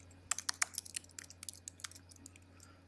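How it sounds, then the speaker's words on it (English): Rapid, crisp clicks from a computer keyboard, tapped in quick irregular bursts that fade after a couple of seconds, close and fairly quiet in an otherwise still room. "I can hear typing."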